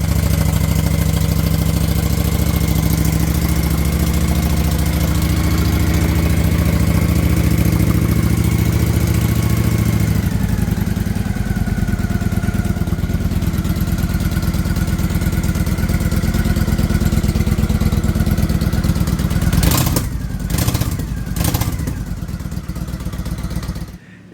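A revived Honda motorcycle engine idles steadily and loudly up close, with a slight change in tone partway through and a few sharp clattering bursts near the end before it cuts off.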